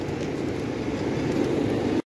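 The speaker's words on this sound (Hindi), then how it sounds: "अभी ये ट्रेन की आवाज़ से सारे कबूतर उड़ गए," A train passes near a park full of pigeons in India, a steady broadband rumble and rush that holds throughout before cutting off abruptly.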